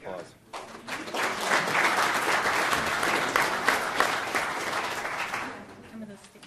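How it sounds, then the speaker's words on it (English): Audience at an Amarillo city council meeting breaks into a steady round of applause, dense and fairly close, swelling quickly and holding for several seconds before trailing off, with a voice briefly audible near the end. "round of applause"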